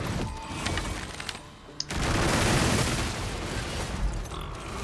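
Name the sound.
machine gun fire in video game Dragon's Dogma II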